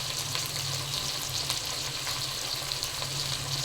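Okra and tomato pieces fry in a pan with salt, giving a steady, dense sizzle with faint crackles and light stirring, close and continuous with no voices.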